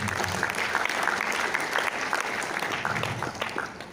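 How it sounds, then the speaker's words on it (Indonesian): An audience at an Indonesian sales-presentation event applauds Kang Rian, producing dense, steady clapping that continues for a few seconds and thins slightly toward the end. "Mohon aplaus dong buat Kang Rian"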